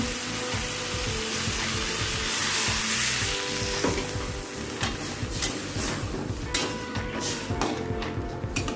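Water poured into a pan of spices and potatoes frying for a Bengali chickpea-fritter curry, a loud steady hiss and sizzle with stirring scrapes and clinks, continuous throughout and fading slightly.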